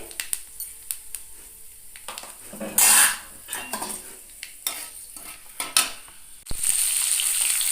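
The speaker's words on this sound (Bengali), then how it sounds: "পাঁচফোড়নটাকে জাস্ট একটুখানি খুন্তি দিয়ে নাড়াচাড়া করে নিতে হবে" A metal spatula scrapes and clinks against a wok in quick, uneven strokes, stirring panch phoron spices over a soft sizzle, close up; the sizzling swells louder near the end.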